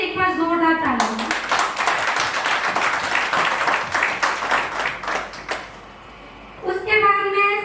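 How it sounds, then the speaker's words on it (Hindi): Audience applause for dance teachers at a TIENS network success-story event in Faridabad, a dense burst of clapping lasting several seconds between stretches of a woman's amplified speech. "उनके लिए एक बार जोरदार तालियां"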